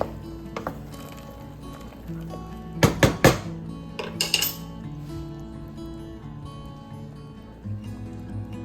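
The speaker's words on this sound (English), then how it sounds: "Stir it real quick." Metal utensils clink and scrape against a pot of broccoli cheddar potato soup in a quick burst of sharp knocks, with softer stirring scrapes afterward over a low background hum.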